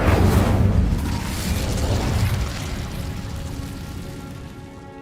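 The Incendio fire spell goes off in Hogwarts Legacy, a loud whooshing burst of flame that roars at first, then slowly fades into a crackling, rumbling tail over several seconds.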